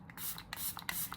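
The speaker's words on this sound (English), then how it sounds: "let me just spray a little bit of this" A makeup setting spray gives several short, close hissing bursts in quick succession, each a brief puff of mist with small pauses between.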